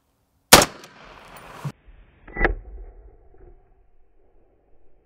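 A 7.62x39 rifle round strikes a hard armor plate in one sharp, loud crack, followed about two seconds later by a second, softer impact thump, then quiet.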